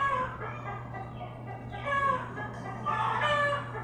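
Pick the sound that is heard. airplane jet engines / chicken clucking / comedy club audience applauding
chicken clucking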